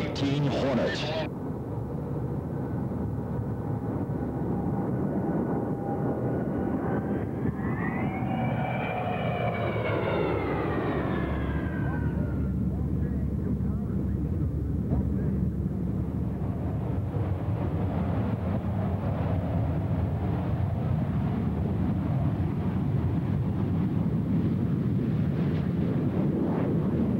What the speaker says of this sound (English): about to see a tactical demonstration by one of the most devastating aerial weapons that the United States fighting forces employ, and that is the FA-18 Hornet